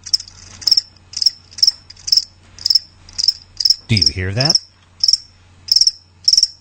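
Crickets chirp in steady, evenly spaced bursts as a radio ad sound effect, clear and close. A voice speaks briefly in the middle.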